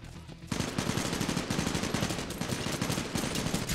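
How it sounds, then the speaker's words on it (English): Rapid smart pistol fire in the Titanfall beta on Xbox One, a fast, steady string of close, loud shots beginning after a brief pause and continuing to the end, with no talking over it. "That's a smart pistol."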